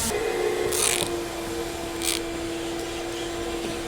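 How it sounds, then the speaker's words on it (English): A vacuum cleaner drones steadily up close inside a car interior, with brief rushing surges as the nozzle rubs and sucks across surfaces. "Kim's gonna blow out the interior, we're gonna vacuum it, wipe it down"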